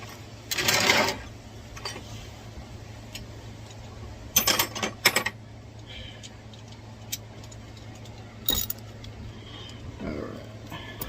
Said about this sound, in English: Let me grab a smaller wrench and see if I can get it now.